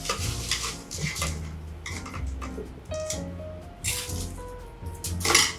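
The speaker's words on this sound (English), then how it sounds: "And then we are going to add the ice." Ice clatters and rattles into a caipirinha glass or shaker already holding cachaça, several bursts of clinking cubes with a hard tinkle, loudest near the end, close and with no talking.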